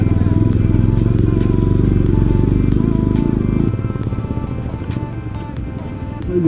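A motorcycle rumbles on a muddy, rain-soaked offroad track on the way to Pokhara, its loud throbbing engine close up, then easing to a lower, lighter putter partway through as the bike slows.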